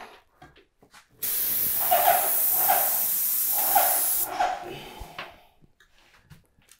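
A Titan airless paint sprayer fitted with a spray guide lets out one loud, continuous hissing spray burst of paint lasting about three seconds, with faint handling noises before and after.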